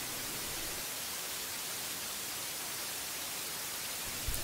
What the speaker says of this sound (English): start at the top of the module output with white noise